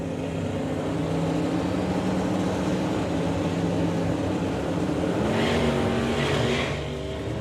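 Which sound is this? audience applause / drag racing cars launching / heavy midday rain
drag racing cars launching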